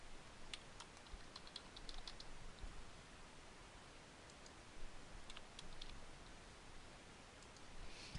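Login credentials are typed on a computer keyboard, with faint scattered key clicks in small clusters over a steady hiss of background noise.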